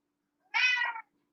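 A cat carrying its favourite toy in its mouth lets out a single short, muffled meow, close and clear against silence.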